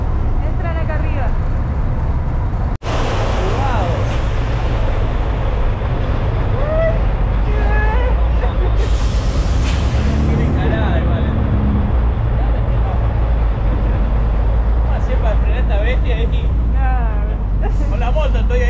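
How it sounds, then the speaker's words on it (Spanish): Heavy trucks rolling onto a ferry barge crossing the Strait of Magellan, a steady loud low rumble of engines and vehicles with scattered voices and some clanking, continuous throughout. "Y todos esos camiones entran acá arriba."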